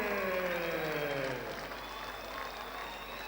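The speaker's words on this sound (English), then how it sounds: "And a big round of applause for Baydon Beddoe" Boxing crowd applauding a new Victorian welterweight champion after a fight, steady clapping and cheering in an arena with faint voices over it, slowly easing off.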